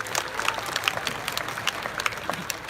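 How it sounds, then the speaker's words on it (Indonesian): Audience applause at the opening of the Bali Arts Festival 2022 at Ardha Candra Art Center, Bali, a steady wash of many hands clapping, moderately distant, continuing evenly throughout. "Tepuk tangan untuk pemerintah pusat."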